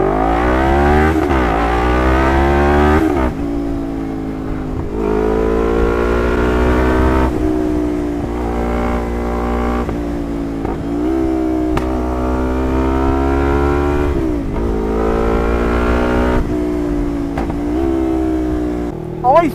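Lexmoto LXR380 motorcycle fitted with a performance exhaust and new ECU accelerating repeatedly, engine note rising through several gears with brief drops between shifts, loud and close under a riding wind.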